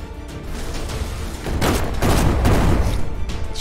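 Rapid gunshots and a chain of explosions in the turn-based video game Shardpunk Verminfall, loud bursts swelling midway into a dense rumbling barrage before tapering off.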